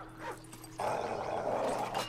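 Attack dogs in the video game Modern Warfare 3 Survival mode, snarling and growling in a short burst that swells into a sustained rough growl amid game noise.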